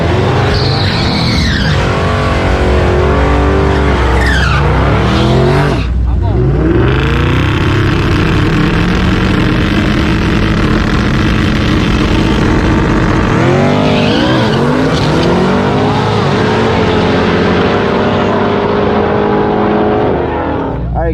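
Daily-driver street cars with power adders, such as turbo Coyote, LS, LT and 2JZ engines, race at a late-night drag event. Loud engines rev and sweep up through the gears, tires squeal, and runs repeat close by with voices in the background.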